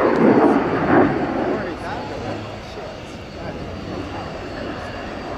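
A Saab JAS-39C Gripen fighter jet performs a flying display at an air show, its engine roar loudest at first, then fading to a distant rumble while a commentator talks over it.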